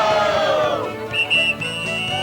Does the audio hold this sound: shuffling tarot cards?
no